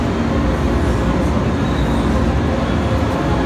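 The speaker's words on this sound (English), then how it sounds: "Behold, the Hogwarts Castle train." Steady rumbling ride aboard the Hogwarts train attraction at Universal Studios, a continuous loud rolling rail-car drone with broadband noise throughout and no speech.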